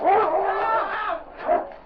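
A big dog charges and attacks in an old-time radio drama set in the Yukon, giving a close, loud burst of snarling and barking with a yelp-like cry, then a second sharp outburst near the end.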